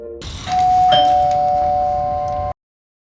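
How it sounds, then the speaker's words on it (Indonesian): A doorbell rings for a package delivery with a clear electronic ding-dong chime that sustains for about two seconds, loud and close, then cuts off abruptly into silence. "Pada saat yang sama, bel rumah berbunyi karena ada paket yang datang untuk Tim."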